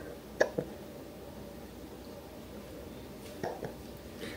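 A chunky baby boy hiccups indoors, two quick soft hiccups near the start and another pair a few seconds later, close and fairly quiet over faint room noise.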